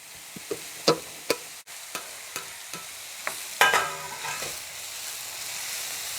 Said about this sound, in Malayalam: സവോളയൊക്കെ ഇങ്ങനെ വാടി വരുമ്പോഴത്തേനും തക്കാളി ഇട്ട് കൊടുക്കാവേ